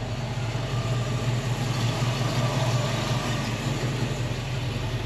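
A 1970 Ford Mustang Fastback idles steadily with a low, continuous engine rumble, close and unbroken for the whole stretch with no talk over it.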